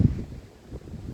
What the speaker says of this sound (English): I hope that you guys can hear me over the wind, because this is very windy